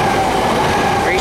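A Southern Electrostar Class 377 electric train races through Preston Park Station at speed, a loud, close, continuous roar of wheels and rushing air with no let-up across the brief pass.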